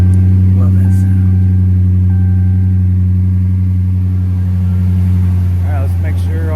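Dodge Charger 5.7 V8 after a water pump replacement, idling steadily and loudly close by with a deep constant hum, while people talk nearby.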